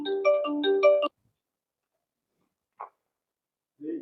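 Electronic phone ringtone plays a bright melodic tone for about a second, then cuts off into silence, followed later by a brief faint blip and a short low sound near the end.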